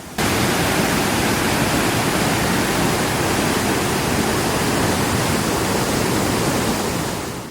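A waterfall along a motorcycle loop route in Laos roars as a steady, dense wash of falling water, loud and unbroken from start to finish with no talk.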